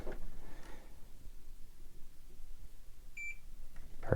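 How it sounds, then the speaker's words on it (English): A digital scale beeps once, briefly and faintly, in a quiet room while a LEGO set is weighed. "Heard a beep."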